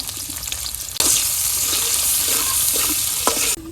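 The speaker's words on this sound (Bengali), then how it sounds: "কড়াইতে তেল দিয়ে দিলাম দারচিনি এলাচ লবঙ্গ দিয়ে দিলাম পেঁয়াজ দিয়ে দিলাম" Onion, cinnamon, cardamom and cloves drop into hot oil in a wok, setting off a loud, close sizzle with stirring scrapes that cuts out abruptly near the end, with no speech.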